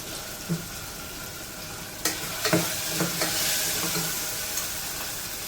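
Green peas usal roasting in a pan, with a soft continuous sizzle and a few sharp scraping stirs and clinks of a spoon against the pan, fairly quiet with no talking.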